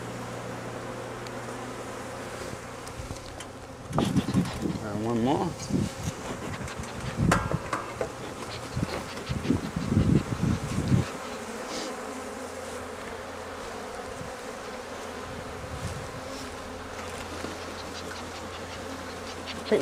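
Honey bees buzzing around an opened vertical Flow Hive during a hive split, a continuous close hum that grows louder and busier for several seconds as frames are handled, with a brief voice.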